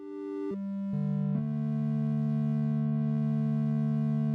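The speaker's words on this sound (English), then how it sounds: "You can hear it shifting that pulse on the square" A synthesizer square wave holds a steady buzzy tone that steps down in pitch twice early on, then sustains while its timbre slowly shifts as the pulse width changes.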